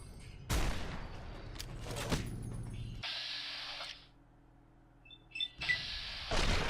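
Gunfire in a first-person video game: loud broadband bursts in two quick clusters, then a lull with a brief electronic whine and a few small clinks, and another loud burst at the end.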